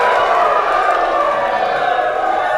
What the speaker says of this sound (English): let's do a little cheer for that